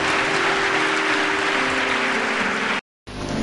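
Loud, dense applause from a crowd at a Christian church gathering, steady for nearly three seconds, then a brief cut to silence before the clapping resumes.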